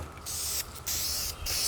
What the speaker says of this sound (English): I'm going to bring it in at a low angle. Try not to get too much on the top of the rails